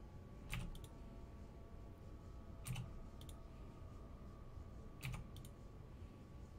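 Lockpicking a door in the video game Fallout: three sharp, evenly spaced metallic clicks, each a small cluster, ticking faintly over a steady low background hum with no talking.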